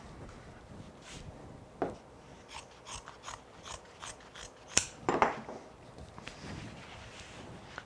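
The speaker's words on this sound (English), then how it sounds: "Take your binding, again, cut it so it's long." Scissors cut through wide carpet binding during rug fabrication. The blades give several close, crisp snips and clicks at an uneven pace, with no talk.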